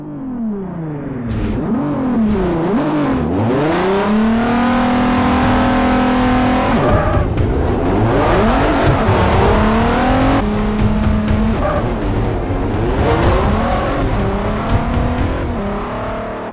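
Nissan Skyline GT-R SpecV racing around the Top Gear test track in Forza Motorsport 4, its engine loud and close, revving hard through rising gear pulls with shifts, brief lifts and renewed acceleration, traction control off.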